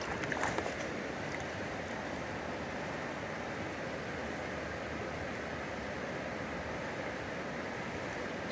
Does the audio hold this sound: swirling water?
yes